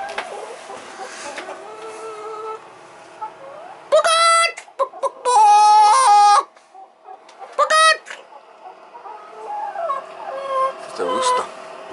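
Chickens on the roost inside a snowy-day coop cluck and squawk in loud bursts, with a few sharp cries close by and softer murmuring clucks between them, and a person speaking quietly at moments.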